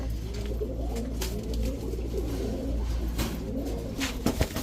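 Giribaz high-flyer pigeons coo in soft, repeated low throaty calls, close by and continuous, with no voices.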